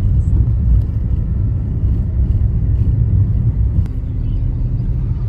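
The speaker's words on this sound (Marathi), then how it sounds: "हा माणगावचा ट्रॅफिक मित्रांनो" Heavy road traffic on the Mumbai-Goa highway at Mangaon makes a constant low, loud rumble of engines with no clear breaks.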